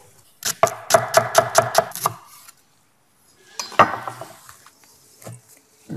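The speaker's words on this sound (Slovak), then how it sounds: "Očistené zemiaky si nakrájeme na tenké plátky." A knife slicing peeled potatoes into thin slices on a board, a quick run of about seven sharp rhythmic chops, a pause, then a few slower cuts and clinks, close and clear.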